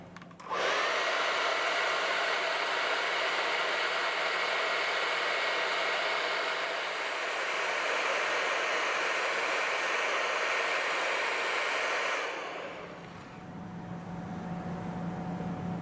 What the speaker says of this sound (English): use a hairdryer on the car on the double kidney